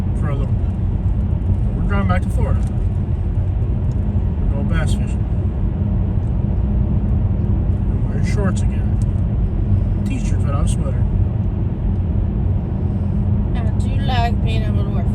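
Steady, loud road rumble from inside a car driving along a road, a constant low drone throughout, with people talking over it at intervals.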